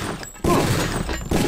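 Gunshots in the first-person game Deus Ex: Revision: two sharp, loud reports land close together, the second following about a second after the first, each with a short booming tail.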